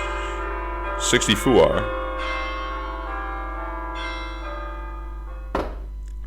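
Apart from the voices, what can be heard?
random bell sounds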